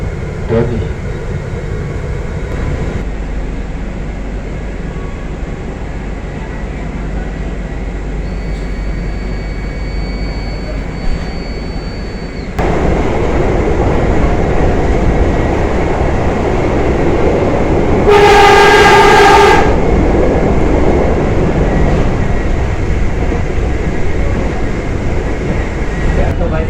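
A KAI Commuter train pulls into a station near Yogyakarta: a steady, heavy rumble of wheels and carriages builds and grows louder, broken by one sustained horn blast partway through.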